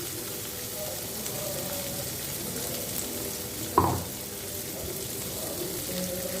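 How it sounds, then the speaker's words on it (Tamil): Vegetables sauté with ground masala in a pan for a potato and pea kurma, making a steady close sizzle with one sharp clatter partway through and a faint running-water quality. "இதோட வேக வைக்க காய்கறியை சேர்த்துக்கலாம் நல்லா வதங்கட்டும்"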